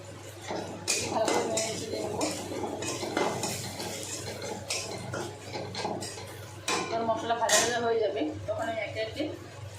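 Potatoes and bottle gourd shoots stirred in a pan with cumin powder for a vegetarian Bengali dish. A metal spatula makes repeated clattering scrapes against the pan, close and continuous, with a voice talking over it.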